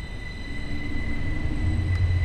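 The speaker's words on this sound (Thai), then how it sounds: "ด้วยความที่เป็นรถไฟฟ้านะครับดันคันเร่งปุ๊บรถออกทันทีเลยนะครับ" Electric train pulling away in the Train Sim World 4 game, a low steady rumble with a faint motor whine that builds slightly as it gets moving.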